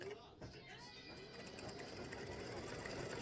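Sewing machine running an open zigzag stitch with brown thread, a steady mechanical whirr held throughout at moderate level beneath a speaking voice.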